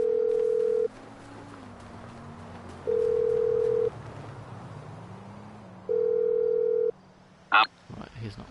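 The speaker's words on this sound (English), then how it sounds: "you will be able to use your phone, so I will call my mechanic" A phone in the video game GTA V Online calls the mechanic, with three evenly spaced ringback tones about three seconds apart, followed by a short electronic blip, under low background game sound.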